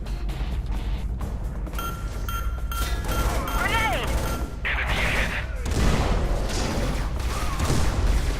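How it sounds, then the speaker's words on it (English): A grenade in the shooter game Scourge: Outbreak goes off with a loud, broad blast amid dense, continuous gunfire and game sound effects. "I'm gonna use a grenade here."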